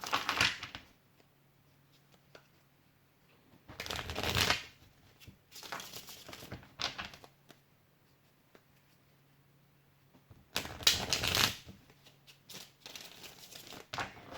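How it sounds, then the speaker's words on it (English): A tarot deck shuffled in several separate bursts of riffling and crinkling, close by, with quiet pauses between them. "This deck is hard to shuffle."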